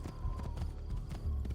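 Horse hooves thud in a quick, uneven clatter as a horse gallops past in a video game, a short, dense burst of low beats with no voices.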